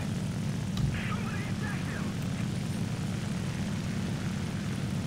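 Propeller warplane engine droning in War Thunder during a World War II air battle, a steady airy roar held constant throughout, with a brief faint click and a speaking voice quietly over it.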